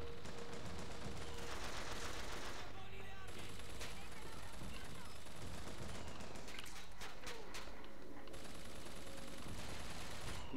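Rapid turret gunfire in BioShock Infinite, sustained bursts of automatic shots with loud game action throughout, near and dense, with brief lulls between volleys.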